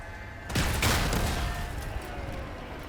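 Rockets firing in Crossout, a quick, loud burst of launches around the half-second mark that rolls into a dense rushing roar and then tapers off.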